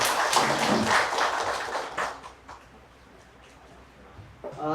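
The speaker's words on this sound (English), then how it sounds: "let's all give a big round of applause for Kevin" An audience at a panel discussion claps to welcome a speaker, a brief burst of applause at moderate distance that fades after a couple of seconds into quiet room noise.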